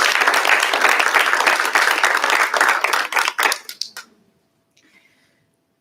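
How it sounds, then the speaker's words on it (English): Congregation at a church live-streamed service gives a warm round of applause for people who shared testimonies, dense clapping that thins into scattered claps and stops, followed by near silence. "So one more time, let's give all the people who shared a round of applause."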